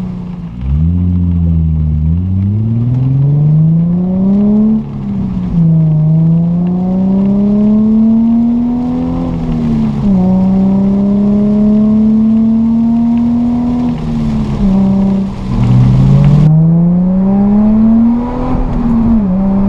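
Infiniti G35 with a rusted-off, split muffler revving hard, its loud raw exhaust rising and falling through repeated throttle blips and sustained high revs, close up with no talking.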